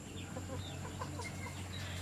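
Huluano and Bisaya native chickens cluck softly on a farm at night, scattered short calls at a moderate distance over a steady low hum.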